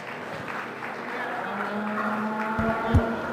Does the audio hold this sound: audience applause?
yes